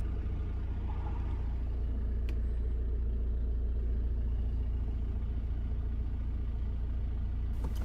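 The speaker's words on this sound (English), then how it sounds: "The engine starts immediately." A 2017 VW Passat engine idles with a steady low rumble, close and continuous throughout, with no voices.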